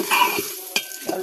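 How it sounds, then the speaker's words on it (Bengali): Rice being fried in a pan for egg pulao, with short bursts of sizzling and a few scraping stirs and clinks of a utensil against the pan, close and fairly quiet. "চালটা ভেজে নেব।"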